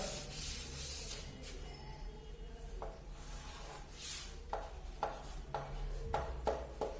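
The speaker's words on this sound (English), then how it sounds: "I am going to rub this" Cloth rubbing and wiping across a classroom board, a steady broad scrubbing hiss with short sharper strokes toward the end, close and fairly loud with no talk.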